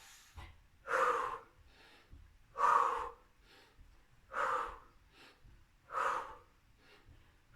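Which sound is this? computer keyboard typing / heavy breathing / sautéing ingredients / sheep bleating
heavy breathing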